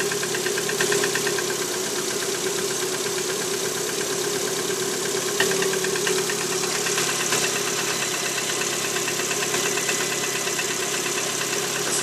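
A Lada Priora with the 126 engine idles steadily at close range, a persistent rhythmic piston knock tapping through the engine hum for the whole stretch, with no talk.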